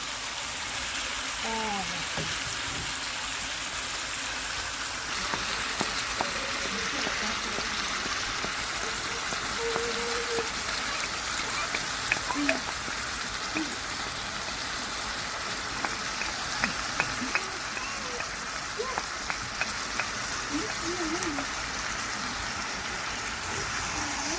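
Guyanese-style shrimp and sausage fry in a pot, a constant rain-like sizzle with scattered pops, while a voice talks faintly at times over it.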